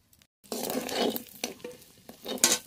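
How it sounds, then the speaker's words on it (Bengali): Whole cumin seeds hit hot oil for tempering in a village kitchen cooking spiced pointed gourd, giving a sudden sharp sizzle that hisses in close, uneven bursts. "ফোড়নে গোটা জিরে"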